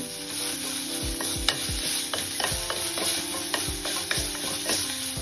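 Chopped coriander, mint and curry leaves frying in oil for village-style tomato rasam, a steady crackling sizzle with repeated scraping and tapping of a spoon against the pot, close, no talking.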